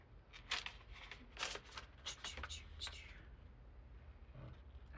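Scissors snip along the edge of a paper cover for a DIY composition notebook, giving a quick run of crisp close cuts, then softer handling rustle.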